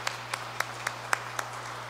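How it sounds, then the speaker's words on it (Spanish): A sparse, rhythmic clapping of a few hands in a church congregation during Sunday Mass, honouring married couples, over a steady low electrical hum. "Por todos sus matrimonios, vamos a dar un aplauso."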